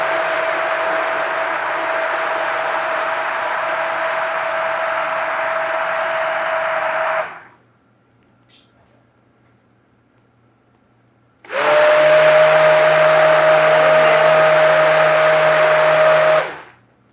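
A blender whirs loudly and steadily for several seconds while giving a drink a final mix. It stops for a few seconds of near silence, then starts again at full strength for another long, steady run.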